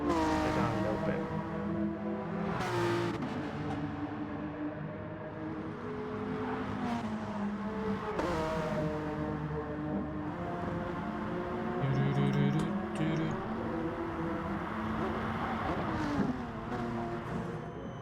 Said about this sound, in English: Sometimes some of the cars are just really loud.